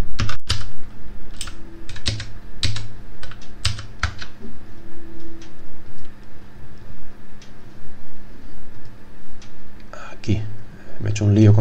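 Computer keyboard keys clack in quick bursts of typing and shortcut presses, close and loud, with someone speaking over the clicking.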